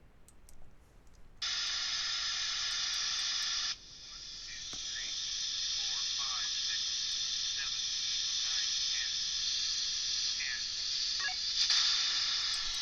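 FRS radio reception on an Icom IC-R8600 receiver about a mile away in a canyon, over loud static hiss, with a faint voice coming through the noise and bursts of squelch and clicks.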